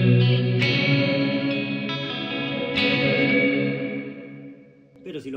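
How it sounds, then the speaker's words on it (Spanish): An electric guitar runs through a GH Systems R1 reverb pedal with all controls set to the middle, ringing chords swelling into a thick, washy tail, then fading to quiet before a brief new strum. "Y después tenés el R1, que es un reverb, que si lo clavas con todos los controles al medio es un despelote."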